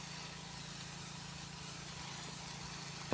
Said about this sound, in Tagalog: Maandar yung makina natin kasi, ayan.